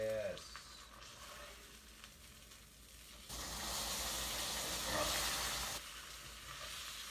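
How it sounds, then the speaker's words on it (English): A deep fried burrito sizzles in hot frying oil, a steady loud hiss that swells partway through after a quieter start with faint stirring. "Sizzling up."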